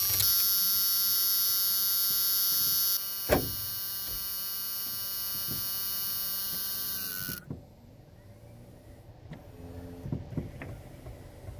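Power window motor from a 1993 Chevy G20 van runs with a loud, steady electric whine that cuts off abruptly partway through, followed by quieter clicks and handling noises.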